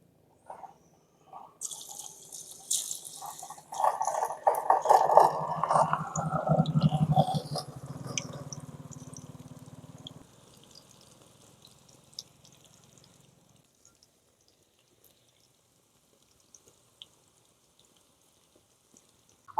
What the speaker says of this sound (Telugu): ఆయిల్లో ఇట్టాగే 2-3 నిమిషాలు బాగా ఉడికించుకోండి